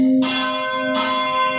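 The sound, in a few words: church bell ringing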